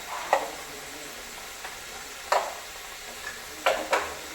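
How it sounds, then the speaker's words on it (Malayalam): A utensil stirs chicken sausage curry with coriander powder and turmeric in a pan, giving a few spaced, soft scraping strokes over a faint sizzle, with no talking. "ഇത്ര ഇട്ടിട്ട് നമുക്ക് ഇളക്കി എടുക്കാം കേട്ടോ."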